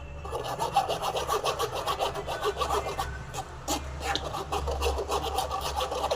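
Blended apple pulp with the peel left in is pressed and rubbed through a strainer, giving a continuous close scraping and rasping rhythm of repeated strokes without talk.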